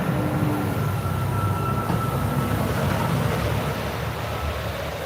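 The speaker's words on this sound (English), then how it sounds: "And then all you're hearing is the truck." Truck passing by on a snowy day, a steady loud low rumble that holds throughout with a faint whine on top, alone without talk.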